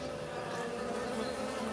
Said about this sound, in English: Oh, got a lot of bees around here.